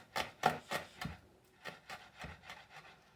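A knife chops an onion on a cutting board in a quiet, steady series of about ten soft wooden taps, with no voices.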